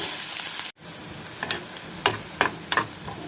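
Onions with salt fry in a hot pan, a steady close sizzle broken by a brief silent gap and several sharp stirring scrapes and clicks.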